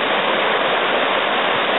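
A river flowing near a mining claim on a fall morning, a loud, steady rush of water with no breaks and no voices.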